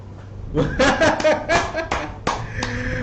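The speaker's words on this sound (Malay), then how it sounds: "Bagi tepukan untuk diri sendiri." Children in an online maths class for years one to three clap for themselves, with a burst of uneven claps and taps mixed with chuckles and a teacher's voice over a slightly tinny connection.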